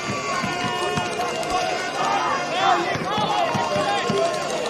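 A crowd at a men's NPL NSW football match between St George FC and Sydney United 58 FC fills the ground with a loud, continuous roar and scattered shouts, and a commentator talks over it.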